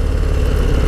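Close, loud idle of a Harley-Davidson Low Rider ST run without an exhaust, a steady rapid mechanical patter with a low throbbing pulse and no voices.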